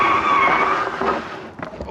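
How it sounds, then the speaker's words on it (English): E-bike rear brake locking up on a straight road at about 20 mph, a short scraping tyre skid with a high squealing tone that fades over two seconds, ending with faint rustling. "back brake locked up straight away. Bit of a skid there."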